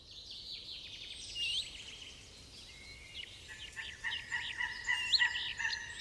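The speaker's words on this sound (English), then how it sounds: "Two quarreling bald eagle chicks." Two young bald eagle chicks squabble in a freshwater tidal nest area, trading thin, high, repeated chirps and squeals that come in uneven bursts, close and clear over a quiet background.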